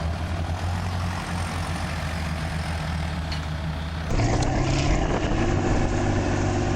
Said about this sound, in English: The four-machine chain reverses, and each tractor retreats carefully from the once quagmire field